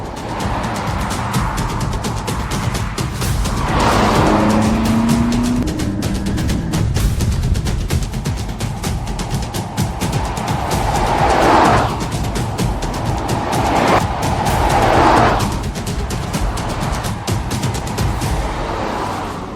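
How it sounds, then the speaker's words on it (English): A BMW M8 Competition coupe drives with a steady engine drone and road roar that swells in a few passing surges, loud and close throughout, with no speech. "So the M8 competition coupe and convertible that you saw there aren't quite what has been launched in India."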